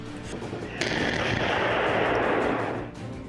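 Israeli air strikes on Rafah set off a sustained roar of blasts, a sudden loud onset swelling into dense, rumbling explosive noise that holds for a couple of seconds before fading.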